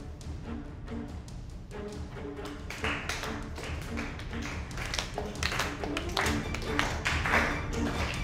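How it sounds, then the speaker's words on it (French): An audience applauds after a good shot in a pool or billiards game, with rapid, dense clapping that builds in loudness toward the end and a voice heard faintly underneath. "Applaudissez!"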